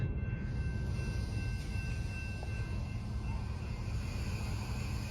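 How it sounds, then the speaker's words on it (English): A train rumbles low and steady as it comes to a stop, with faint metallic squeals and high tones from the wheels above the broad running noise, and no speech. "The train has decided to stop."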